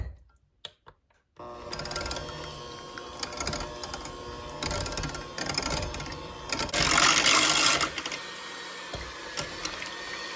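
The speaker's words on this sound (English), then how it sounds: "I'm going to mix this up with the electric mixer just until it's blended nicely." An electric mixer blending cake batter whirs steadily and close by, briefly getting louder and harsher near the middle, after a few soft knocks at the start.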